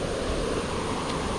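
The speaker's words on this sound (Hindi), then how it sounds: "कितना खतरनाक पानी आ रहा है" A fast, rushing stream near Haldwani, a continuous broadband roar of water with no break, heard close and alone without any talk.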